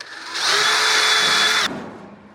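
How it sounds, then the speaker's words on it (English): A power drill whines steadily at high speed for just over a second, drilling an aircraft fuel tank, then winds down and stops abruptly, close and loud. "I'm just going to center it up right to left and drill this corner."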